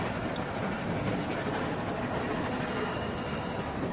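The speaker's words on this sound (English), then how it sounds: "Stop the train." Train noise in The Walking Dead video game: a steady, broadband rumble of a moving train with rolling rail clatter, continuous and fairly loud for the whole stretch, with no talking.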